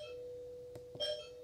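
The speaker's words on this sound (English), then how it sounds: "that means you have successful connection and your doorbell should chime." A Pulsar Halo doorbell camera chimes faintly with a short tonal ding over a low steady hum, accompanied by a couple of soft clicks.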